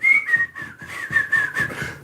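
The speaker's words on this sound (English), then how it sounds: "Start whistling and everything." A person whistles a bright, wavering tune in short repeated phrases, close and clear, with no talking.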